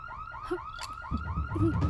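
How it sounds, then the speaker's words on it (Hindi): Bank alarm ringing after being set off, a loud electronic warble of rapid repeating rising chirps that sounds steadily without pause. "तूने अलार्म दबाया?"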